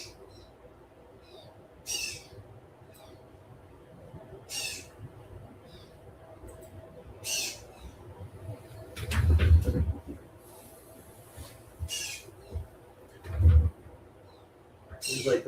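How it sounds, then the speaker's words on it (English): Birds call just outside a room in short, scattered coos and chirps that rise and fade over a steady low hum, fairly distinct but not right at the microphone. "Seems like the birds are in here,"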